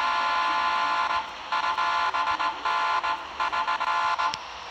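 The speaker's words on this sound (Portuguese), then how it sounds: "E tem buzina, galera. Quer escutar a buzina?" A truck horn in the Grand Truck Simulator 2 video game blares loud and close, first in one long held blast, then in a quick series of short choppy toots that stop and start.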